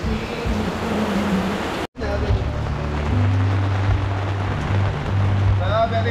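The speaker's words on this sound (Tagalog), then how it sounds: "So biglang bumuhos yung ulan mga beli." Heavy rain pours down steadily outdoors at a catering cooking site in Angeles City, a dense, loud hiss that cuts out for an instant and then resumes. Low rumbling runs underneath.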